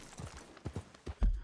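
Horse hooves clip-clop in a Western open-world video game, a handful of distinct close hoof strikes spaced unevenly over a brief moment with no talk.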